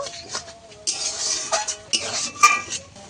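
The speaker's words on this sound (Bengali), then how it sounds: "এবারে লাউটার রসটা ভালো করে আমি শুকনো করে নেব।" Bottle gourd stirred in a pan as its juice cooks down, with a spoon scraping and clinking against metal in irregular strokes and a soft sizzle underneath.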